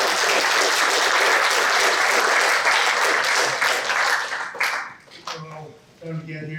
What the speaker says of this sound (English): let's go ahead and give him a round of applause